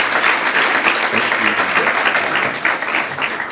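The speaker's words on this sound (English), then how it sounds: "let's please give her a round of applause" Audience applause at a foundation holiday luncheon at the USC Galen Center. Dense, steady clapping from a large crowd fills the whole stretch at high volume.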